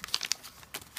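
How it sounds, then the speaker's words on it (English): Glittery pink gift wrapping paper being crumpled and crinkled by hand in a few quick bursts, close and fairly quiet, with no talking. "this really pretty wrapping paper that she used to wrap my presents in"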